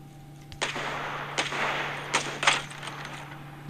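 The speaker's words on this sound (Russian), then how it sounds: "Что-то стрелял, стрелял, в кого стрелял," Gunfire in the mobile shooter Battle Prime: several sharp shots spaced irregularly over a faint steady hum, distant-sounding and fairly quiet.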